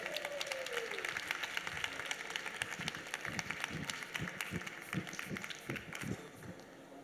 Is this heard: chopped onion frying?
no